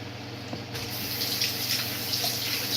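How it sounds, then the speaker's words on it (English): Hands rinsed under a running kitchen tap, a steady close rush of water with soft splashing changes as the hands move through the stream, no voices. "Just rinsing my hands, guys."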